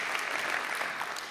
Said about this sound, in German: Es ist sehr höflich, dass Sie klatschen.